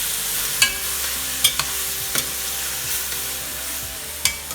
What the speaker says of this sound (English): be sure to be thorough about stirring them in